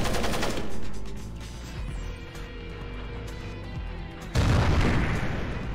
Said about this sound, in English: I'm just gonna lob grenades places and see what happens